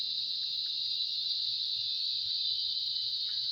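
A steady shrill cricket trill rings through wooded campus grounds near old barracks, constant and moderate in level, with a few faint background knocks.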